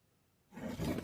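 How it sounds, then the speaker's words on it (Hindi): A tiger in Shivpuri gives a sudden deep roar that swells from near silence into a loud, rough, sustained burst lasting about half a second. "कई सालों बाद शिवपुरी में बाघों की दहाड़ सुनाई दी।"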